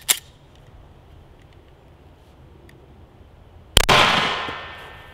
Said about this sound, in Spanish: ahora le voy a estar disparando con la P320 Sig Sauer en calibre 40.